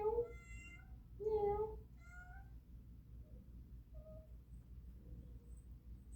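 A house cat meows twice, close and clear, each cry bright and rising, over a low steady background hum, followed by a softer short chirp.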